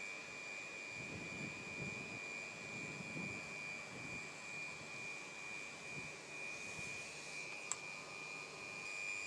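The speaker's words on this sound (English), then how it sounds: "With the FIV machine running, we insert the nozzle, and we can see that the correct amount of pressure is set" An automatic welding machine runs steadily while sealing a ground gas protection membrane, giving a constant whine with a sharp high tone, a low machine hum and a brief click near the end, with no talk.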